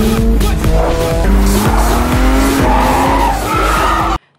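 A taxi in a film chase scene accelerates hard with tires squealing and skidding, loud close engine revs and screeching rubber that cut off abruptly at the end.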